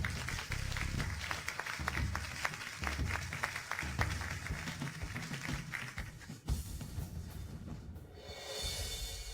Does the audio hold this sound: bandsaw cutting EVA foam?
no